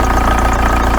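Volkswagen T25/T3 camper engine idling with a newly fitted exhaust and flexi section, a steady low rhythmic thrum heard close up without any talk.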